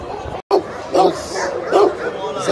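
A dog barks in loud, spaced woofs at a busy Friday street market, with people's voices and crowd chatter running underneath throughout.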